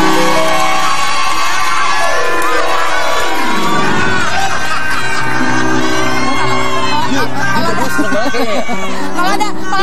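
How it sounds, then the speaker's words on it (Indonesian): A studio audience on an Indonesian TV talk show cheering and clapping, a loud, continuous crowd roar with shouts and whoops, mixed with voices talking. "Boleh tepuk tangan loh."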